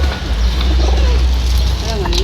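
A pigeon coos in a few soft, low bursts amid a steady low rumble and background chatter, close by.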